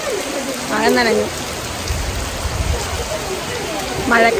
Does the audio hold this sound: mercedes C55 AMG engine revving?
no